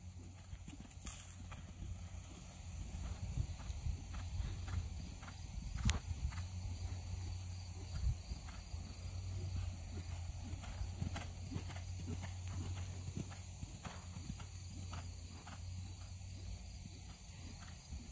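Hoofbeats of a horse cantering during a jumping lesson in an arena, a steady low rhythmic drumming that runs throughout at moderate distance, with faint insect chirping in the background and occasional brief voice.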